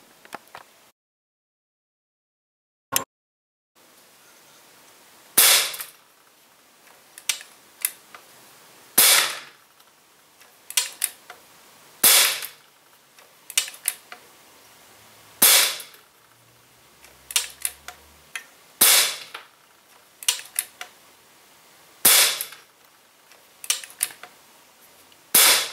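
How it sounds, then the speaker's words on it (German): Ten sharp single shots from an Anschütz 9015 One air rifle, each a crisp near crack with a short mechanical tail, spaced a few seconds apart after a quiet opening. "So, das waren die 10 Schuss."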